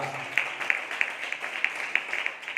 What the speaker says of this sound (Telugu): అందరం ఒకసారి చప్పట్లో కూడా దేవుని స్తుతిద్దాం